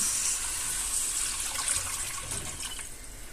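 Steady stream of water pouring into a cooking pot for sinigang sa miso, splashing, continuous and fairly loud, with a faint hiss throughout.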